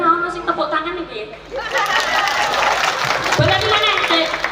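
An audience at a Javanese religious gathering with a humorous preacher claps in a broad burst of applause that swells after a speaking voice and continues to the end.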